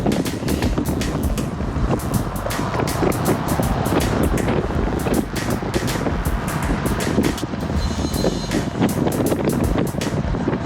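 Strong wind buffets the microphone during fast road cycling at around 27 miles an hour, a loud, continuous roar with gusty bursts throughout, with no voices.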